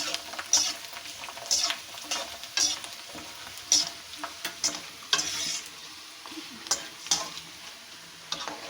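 Papad fries in hot oil with a crisp sizzle and repeated sharp crackling bursts that come roughly once a second, heard up close.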